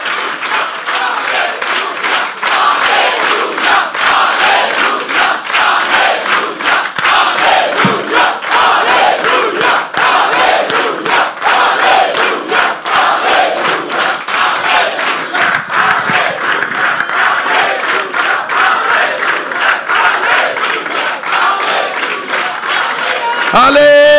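A large church congregation applauds and cheers loudly and continuously at a Resurrection Day service, dense clapping mixed with shouts filling the space for over twenty seconds.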